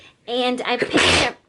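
A person sneezes abruptly in the middle of casual talk, one sharp close burst breaking into a speaking voice.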